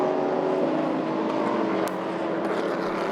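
Endurance race cars run at the 2016 6 Hours of Bahrain WEC, a steady blended engine drone from cars passing at a distance, with no clear voices.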